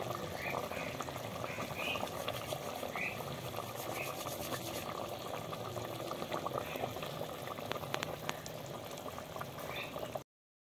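Duck meat simmering in a clay pot with a little hot water added, a steady soft bubbling and boiling under low, continuous background noise.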